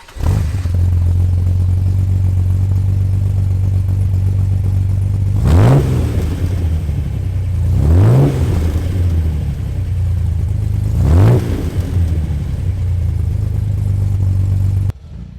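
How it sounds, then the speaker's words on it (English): A restored Austin Healey 3000 MK3 (BJ8 Phase 2) idles with a loud, rough, steady rumble from its exhaust, then is revved in three sharp bursts that rise and fall back to idle. "So here's a first start of the Healey."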